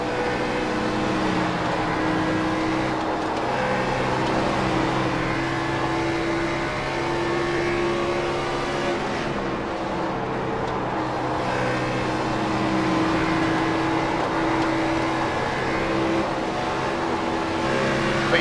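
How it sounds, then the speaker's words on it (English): A NASCAR race car lapping a track, its engine droning loudly and continuously throughout, with pitch rising and falling through gear changes and corners, heard from on board with no talk. "Let's do a few laps."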